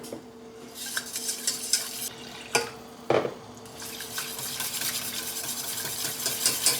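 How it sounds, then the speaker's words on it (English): A whisk scrapes and clinks around a pan as milk is worked into a roux, with quick rhythmic stirring over a soft sizzle and occasional metallic taps. "I have 1 cup of our milk from earlier, and I'm gonna slowly add this in and whisk it until there are no lumps"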